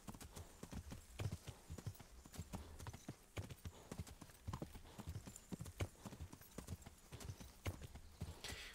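Steady clip-clop of horse hooves on the ground in the medieval game Kingdom Come: Deliverance, a quick continuous trot, close and fairly loud over a dense ambient background.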